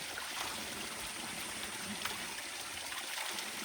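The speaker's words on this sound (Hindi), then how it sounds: "ये देखो ऊपर पहाड़ों से आ रहा है पानी, पहाड़ों से आ रहा है" Mountain water rushing down from the hills at Dhera Top in Jammu, a steady broadband hiss of flowing stream close by, continuous and unbroken, with no voices.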